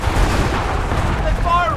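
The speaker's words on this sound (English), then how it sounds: "They're firing!" Dense gunfire and cannon fire rumble through a battle in the video game Assassin's Creed III, a loud continuous booming wash with a faint voice over it near the end.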